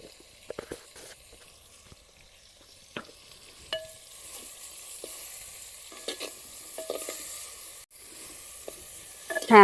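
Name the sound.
hog plums frying with turmeric in a pan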